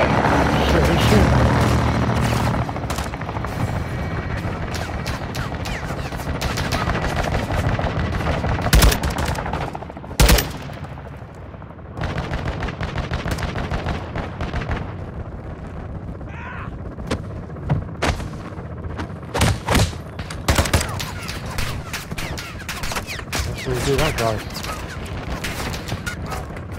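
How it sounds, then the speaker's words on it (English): Heavy belt-fed machine gun fire in the Modern Warfare 2 campaign, long loud bursts and scattered single shots with booming impacts, mixed with battle effects and radio-style voices. "Taking belt fed fire from beneath the tower."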